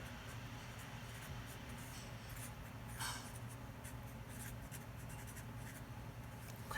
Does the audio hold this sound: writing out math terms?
yes